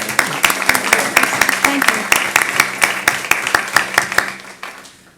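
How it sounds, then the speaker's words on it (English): A small group claps in steady, scattered applause for several seconds at a school committee meeting, with a brief spoken word near the start. "let's give her another round of applause"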